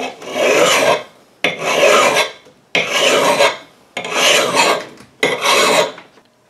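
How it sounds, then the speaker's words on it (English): A mill bastard file rasps along an edge in five long, even strokes, each a loud, close, gritty scrape separated by brief pauses. "So I'm going to use my just standard mill bastard file here."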